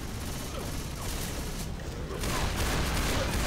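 Rapid gunfire from a weapon in Left 4 Dead 2, bursts of shots over a dense, noisy game mix that grows louder toward the end.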